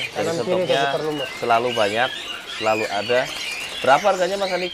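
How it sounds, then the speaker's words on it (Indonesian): A puter lumut dove at a bird market coos in repeated throaty phrases close up, with people talking over it. "Nah, ini puter lumut teman-teman ya."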